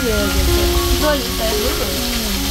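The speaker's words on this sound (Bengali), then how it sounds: "আমরা শাক ভাজি করতেছি" Leafy greens frying in a pan with a steady broadband sizzle throughout, heard close and fairly loud while people talk over it.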